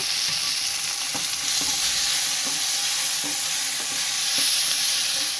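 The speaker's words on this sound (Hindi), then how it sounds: "और ये टमाटर हम अच्छे से इसके साथ फ्राई कर लेंगे थोड़ा सा।" Onion and tomato fry in a pan with a constant close sizzle, punctuated by repeated light scraping and tapping from stirring.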